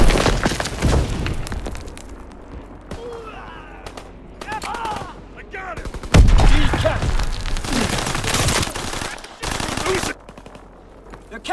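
Game battle in Call of Duty: WWII with sticky bombs and gunfire: loud rapid bursts of machine-gun fire and booming blasts, dense and continuous, with heavier explosive hits partway through, and voices heard faintly among the din.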